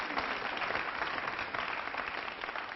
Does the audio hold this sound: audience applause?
yes